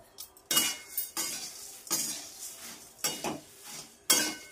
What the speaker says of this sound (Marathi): मुरमुरे आपण थोडेसे कढईत भाजून घेणार आहोत एकदम क्रिस्पी होण्यासाठी।